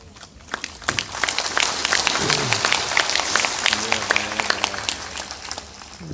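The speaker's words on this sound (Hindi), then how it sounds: "सभी लोग थोड़ा जोर से ताली बजाया करें।" An audience at an evening Hindi satsang, a spiritual gathering, claps in a scattered, uneven burst of hand claps that builds and carries on for several seconds. A voice can be heard faintly underneath.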